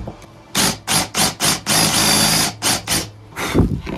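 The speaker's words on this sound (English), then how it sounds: "So you drill your hole out with your bit." A drill buzzes in a series of short, rhythmic bursts, then runs continuously before more quick pulses, close and loud as its bit bores a hole into a wooden board.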